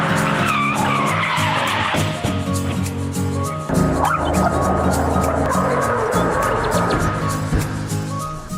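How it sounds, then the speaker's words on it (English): A car drifting on a quiet city street, with loud sustained tyre squeals and screeching skids over a revving engine, ending near a tree impact; yelping and barking cut in and out over the noise. "This driver loses control of his car while trying to drift in this quiet city street."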